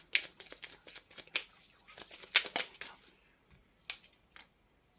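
Tarot cards are shuffled and laid out one by one, giving quick crisp riffling bursts and sharp snapping flicks at irregular intervals in a quiet room, close to the microphone and with nothing else heard.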